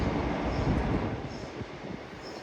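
A train rumbles past at a distance near a beach, a steady low roar with faint high squeals, fairly quiet and continuous.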